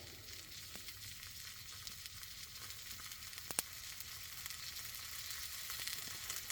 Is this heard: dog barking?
no